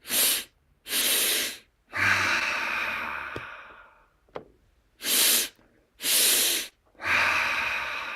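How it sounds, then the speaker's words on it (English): A double-sniff breathing exercise: two quick nasal sniffs followed by a long, soft exhaled sigh, repeated twice, close and quiet with no talking. "I call it the double sniff. So it's a sniff, sniff, and a soft sigh."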